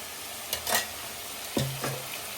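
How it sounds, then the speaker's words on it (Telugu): Chicken fry with ginger garlic paste simmers quietly in a pan, a soft low sizzle broken by a few brief stirring scrapes and clinks, nearby and fairly faint. "దీన్ని కలిపేసి ఒక టూ త్రీ మినిట్స్ అలా సిమ్లో ఉంచేద్దాం"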